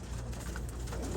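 Racing pigeons, pure whites, coo softly in their loft, a low murmuring call heard close and quietly over a brief moment.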